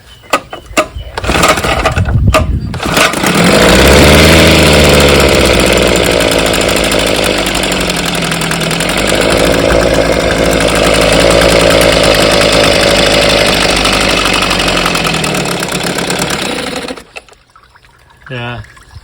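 An Evinrude outboard motor starts after a few sputters and runs loud and rough up close, its tone rising and sagging as it bogs down under throttle instead of reaching high speed, then cuts out near the end.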